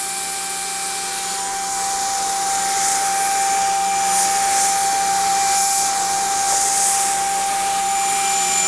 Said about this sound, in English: First, we're going to do the horizontal spray with a very low pressure.